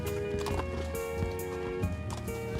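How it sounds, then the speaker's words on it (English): Horses' hooves clip-clop steadily while riding across Icelandic plains, strong horses driving sheep along, with rhythmic close hoofbeats over a constant outdoor wash and a faint whinny-like tone. "just riding across the plains, these horses are so strong"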